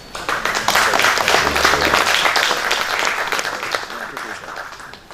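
Conference audience applauding after a presentation, a steady dense wash of many hands clapping that holds strong through most of the clip and tapers slightly near the end, with some voices mixed in.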